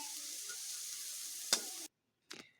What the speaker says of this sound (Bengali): আলুগুলোকে একটু ভালোভাবে ভেজে নিতে হবে।